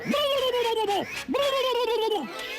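A cartoon gadget bird call in a Tagalog-dubbed animated episode, voiced as two cooing, dove-like calls. Each falls in pitch and is separated by a short gap, close and clear, and sounds like a voice imitating a bird.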